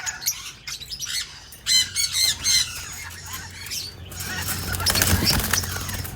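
A breeding pair of ringneck parakeets lets out harsh, repeated squawks and chattering calls up close, in short bursts followed by a denser, scratchy stretch.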